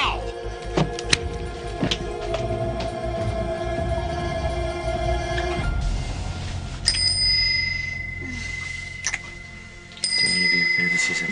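A bicycle-style bell rings in a few sharp bursts indoors, the first fainter amid background clatter and thumps, later rings clear and bright with a short pause between them.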